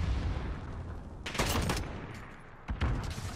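Short bursts of FAL rifle fire in Call of Duty: Modern Warfare, a cluster of rapid shots in the middle and another brief burst near the end, loud over a low rumbling game backdrop.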